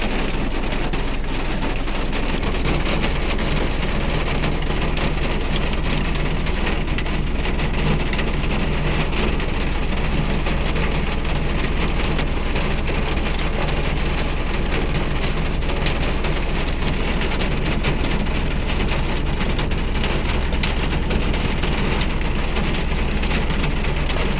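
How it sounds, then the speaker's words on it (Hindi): Steady, heavy rain with hail pours down continuously, a dense hiss of drops drumming on surfaces with a low rumble underneath, no voices. "अब मैं आपको दिखाती हूँ कि आज कितने ओले पड़े हैं और कितनी तेज़ बारिश हुई है।"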